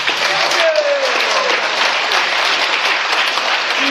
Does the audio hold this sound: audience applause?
yes